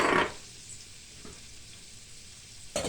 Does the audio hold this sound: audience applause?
no